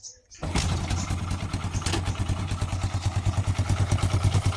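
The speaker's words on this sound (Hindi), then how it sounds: "तो दोस्तों ये गाड़ी अभी स्टार्ट हो चुकी है," A Hero Super Splendor motorcycle engine fires up after a kick with the key on and the gearbox in neutral, then settles into a fast, steady thumping beat that stays loud and close.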